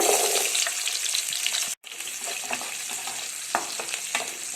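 Shallots, garlic and fenugreek seeds sauté in hot oil with steady sizzling and frequent stirring scrapes, interrupted by a brief cut partway through, with no talking.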